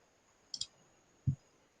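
A computer mouse gives two separate, sharp, close clicks about three quarters of a second apart against near silence.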